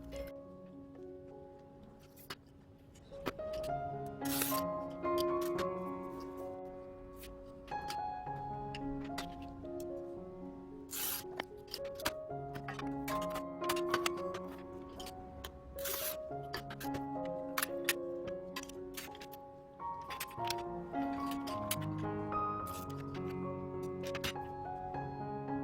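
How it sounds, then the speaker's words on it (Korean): Colored glass sheets are scored and cut with a straight cutting tool, a series of sharp clicks, snaps and short scratching strokes spaced irregularly, close and fairly quiet, with no talk. "직선 커팅 도구의 장점을 최대한 활용하여 자릅니다"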